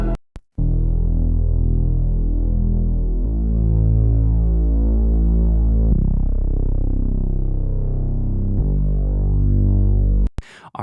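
A thick, droning Reese bass made on a wavetable synth rumbles loud and low for about ten seconds, with slow throbbing, phasing movement and a few note changes, alone before a brief click at the end.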